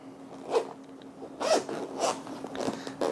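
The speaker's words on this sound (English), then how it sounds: "The zippers seem to work nicely." Zippers on a fabric carrying case for a Commercial Electric DMM-8301S multimeter are pulled in several short, close rasping strokes, about four quick zips spaced across a few seconds.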